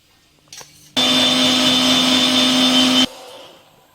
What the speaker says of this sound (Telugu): 1 ఇంచ్ అల్లం, జీలకర్ర, కరివేపాకు, కొంచెం అంటే కొంచెం కొత్తిమీర ఇవన్నీ వేసుకొని ఫస్ట్ కొంచెం పెరుగు వేసుకొని వీటిని బాగా మెత్తగా గ్రైండ్ చేసుకుందాం.